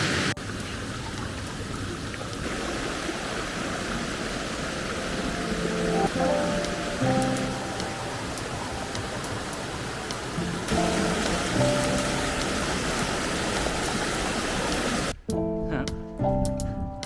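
Water pours steadily down Brandywine Falls into a pool below on a summer hike near Whistler, a broad constant rushing roar with people talking over it throughout.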